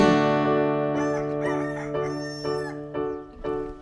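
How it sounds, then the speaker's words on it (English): A rooster crows clearly and close by, a long harmonic call broken into several rising and falling segments, with no talking. "roosters say cock a doodle doo"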